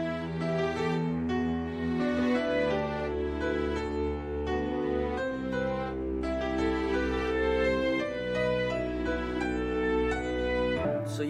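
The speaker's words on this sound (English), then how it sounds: "So you hear how that's a flute" A flute melody plays over a full, sustained arrangement in a pirate-themed music track, the notes steady and prominent throughout with no voices.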